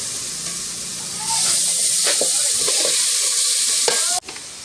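Pork belly sizzles in hot oil with golden-brown garlic and pepper, a close, steady frying hiss that swells louder partway through, with scattered stirring scrapes before cutting off abruptly.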